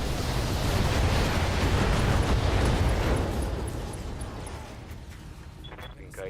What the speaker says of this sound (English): Think I hit some. Ammo explosion,